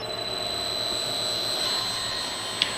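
A CNC router spindle driven by a Huanyang VFD runs at speed, giving a steady, loud, high electric whine with a constant tone and no talk.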